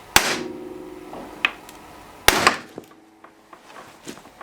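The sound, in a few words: tapping snowmobile spindle to pop out ball joint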